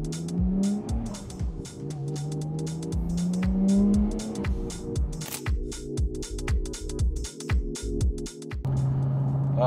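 A Nissan GT-R pulls away, its engine revving up through several gear changes with rising and falling pitch, tire noise mixed in, loud and close with no voices.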